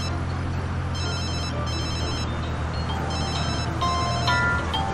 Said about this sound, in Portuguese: Ih, telefone logo agora?